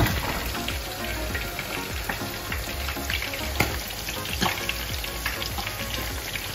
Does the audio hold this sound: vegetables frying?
yes